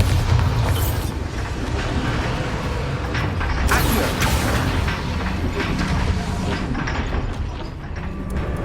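Bombarda spell blast in the Hogwarts Legacy video game, a dense, loud rumbling explosion with crackling debris and low booms that fills the whole stretch without letting up.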